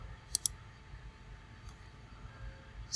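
A computer mouse clicks twice in quick succession, sharp and close, during a Windows Server 2016 installation, followed by faint ticks against quiet room hiss.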